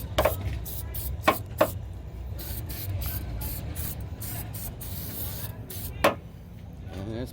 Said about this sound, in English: Spray it up a little bit.